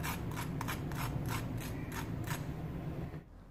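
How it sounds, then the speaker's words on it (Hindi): Crispy fried vegetable kebabs crunch close up in a quick run of sharp, dry cracks over a low steady background hum, with no talking. "तो इन कबाबों की आवाज़ मैं आपको सुनाती हूँ कि ये कितने क्रिस्पी बने।"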